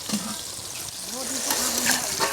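Fish frying in hot oil gives a close, steady sizzle with bursts of crackle, and a faint voice hums or speaks briefly underneath.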